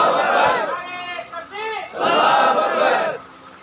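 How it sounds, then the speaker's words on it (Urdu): A crowd at an Urdu religious speech gathering shouts the Islamic slogan Nara-e-Takbir in loud, massed call-and-response bursts, with one voice leading and many voices answering together in rising chant-like waves. "میں چاہتا ہوں مجمع میں سے بھی کوئی بھائی ذرا نعرہ لگا دے"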